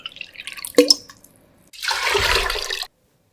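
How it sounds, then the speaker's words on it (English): Water pours steadily into a cooking pot holding lentils for a spinach lentil curry, a full rushing splash lasting over a second, preceded by a few faint clinks and drips. "Now add the lentils to the pot and add 3 cups of water."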